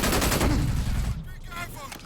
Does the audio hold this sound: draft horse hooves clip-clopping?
no